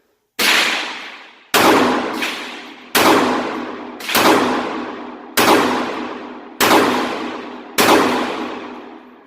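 Seven sharp shots from a Ruger LCP2 pistol at a range, spaced about a second apart, each a loud crack with a ringing decay, no talk.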